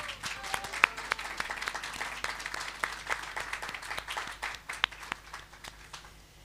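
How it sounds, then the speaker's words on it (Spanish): An audience applauds steadily, a dense patter of many hands clapping at moderate distance, continuous throughout with a few sharper claps standing out. "El aplauso entonces."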